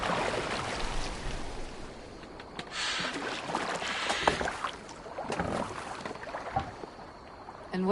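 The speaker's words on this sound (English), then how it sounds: "Are you well enough to steer this boat?" Oars pulling a boat through water in Assassin's Creed Valhalla, with steady splashing and wash over a broad noisy bed, rising in louder surges around the middle, with no talk over it.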